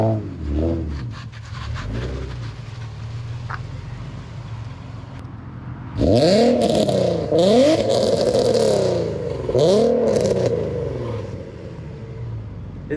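A car fitted with a new exhaust idles with a low rumble, then revs hard several times in a row, loud and close, each rise and fall sweeping up and back down.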